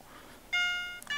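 A thermal camera's temperature alarm starts beeping abruptly when something over 30 degrees appears, a steady tonal beep that pauses briefly and resumes, fairly loud against a quiet background.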